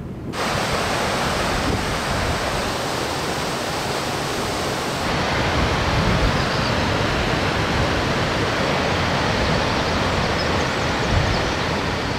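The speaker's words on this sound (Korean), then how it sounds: "우레 같은 폭포 소리가 얼어붙은 산을 깨웁니다." The 68 m Biryong waterfall on Mount Baekdu, in a frozen mountain landscape, roars in a dense, constant wash of crashing water, loud and unbroken throughout with no voices.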